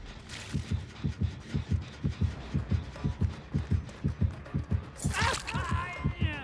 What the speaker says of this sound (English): it provides killers with these periodic visual pings and really apparent heartbeat sound effects